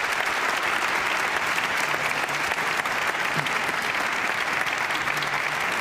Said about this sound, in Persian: میهمان ما جانانه تشویقشون کنید